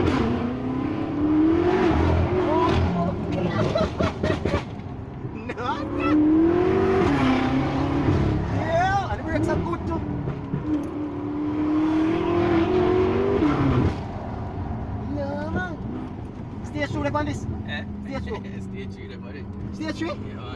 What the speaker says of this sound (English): Bro, I can't believe this V8 sounds so good, brother. I never expect V8 to sound so good.